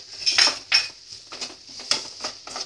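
Onions sautéing with a pinch of turmeric in a pan, stirred with a metal utensil that gives a series of sharp clinks and scrapes against the pan over a soft sizzle.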